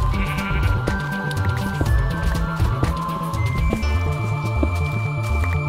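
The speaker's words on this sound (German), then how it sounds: "Ein Schaf. Ein Schaf." A sheep bleats in the video game Minecraft, wavering calls rising over a constant droning hum and game sounds, no voices present.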